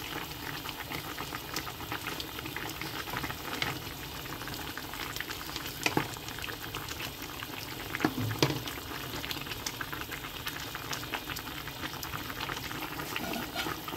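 Fish curry with eggplant simmers in a pot on the stove, a steady close bubbling and faint sizzle with occasional louder pops, no talking.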